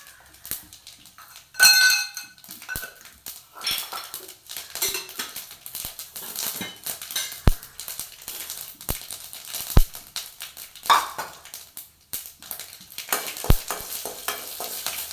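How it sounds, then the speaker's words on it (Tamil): Dried red chillies and mustard seeds fry in hot oil in a pan for a mung bean sundal snack, with a steady close sizzle, scattered popping crackles and occasional stirring clinks of a spoon against the pan. "காஞ்ச மிளகா போட்டு கடுகு போட்டுக்கலாம்."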